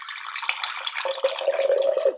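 Water pours steadily from bottles in a bartender's free-pouring technique, a gurgling splashy stream that rises in pitch slightly as it continues, close and fairly loud.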